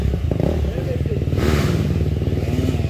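Dirt bike engine on a trail ride in St Lucia, a continuous close rumble with rising revs and clatter, running under voices talking throughout.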